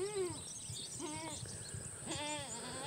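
A Spanish goat mother bleats while searching for her kid: three drawn-out, quavering cries spaced about a second apart, fairly near, with faint outdoor background noise between them.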